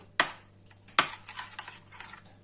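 A spoon stirs roasted eggplant with garlic yogurt in a bowl, with two sharp clinks against the dish followed by softer scraping and mixing, close up and quiet.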